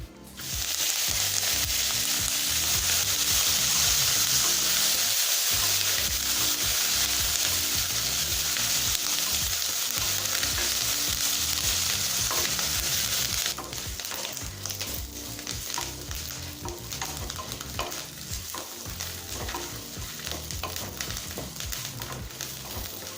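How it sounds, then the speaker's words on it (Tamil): A handful of fresh curry leaves sautéing in a pan, giving a loud, dense, continuous sizzle up close that eases slightly partway through, with occasional stirring scrapes and no voices. "கருவேப்பிலை நல்லா பச்சை வாசனை போகிற வரைக்கும் நல்லா வதக்கிக்கோங்க."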